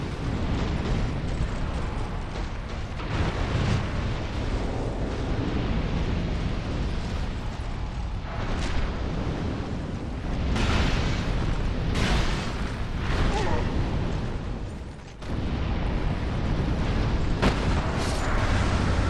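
Explosions rumble and boom in Dark Souls 2 around Brume Tower, a loud, continuous barrage of deep blasts and bursts with sharper cracks rising every few seconds and no speech.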